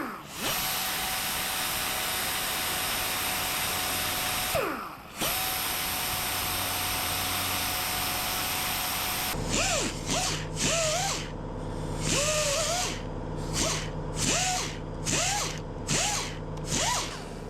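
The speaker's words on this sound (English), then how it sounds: "Change a tool on the die grinder." A die grinder fitted with a pointed bit whines steadily while smoothing a crease on a custom gearbox, then cuts in and out in repeated short bursts with pitch dips as it bites the metal, loud and close.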